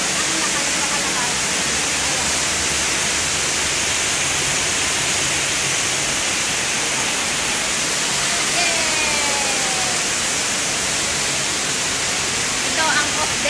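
Constant loud roar of a waterfall on an off-day outing, broadband rushing water filling the whole clip with a few faint tonal sounds near the end.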